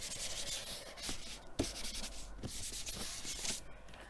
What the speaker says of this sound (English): I'm just going to wipe my sheet with my embossing body